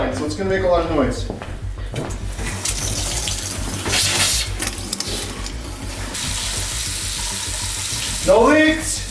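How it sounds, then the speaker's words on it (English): Water rushes and sputters through newly repaired pipes that still hold air, gurgling and hissing loudly and unevenly, while people talk nearby. "When we first turn this on, there's going to be a lot of air in the line, so it's going to make a lot of noise."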